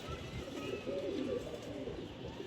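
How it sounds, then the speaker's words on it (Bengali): A green-throated female pigeon from the Mokim Bazar club coos softly and close by, a low continuous burbling with faint background noise. "মকিম বাজার ক্লাব থেকে আরও একটি কবুতর দেখাচ্ছি আমরা এই পাঁচ নম্বর কবুতরটি"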